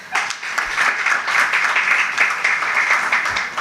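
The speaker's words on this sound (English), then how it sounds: "Another round of applause" Steady audience applause at a charity cheque donation ceremony, dense and continuous clapping from a crowd at close range, holding level throughout with no voices on top.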